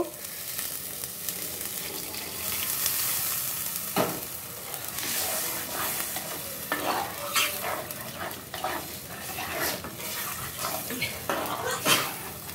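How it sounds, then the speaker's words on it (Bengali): Water poured onto sautéed vegetables in a pan for fish curry sets off a sustained hiss and bubbling sizzle, with scattered clinks of a spoon stirring against the pan. "দেখো সবজিটা কষানো হয়ে গেছে, পরিমাণ মতো জল দিয়ে দিব।"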